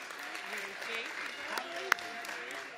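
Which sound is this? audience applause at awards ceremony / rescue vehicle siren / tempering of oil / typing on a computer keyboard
audience applause at awards ceremony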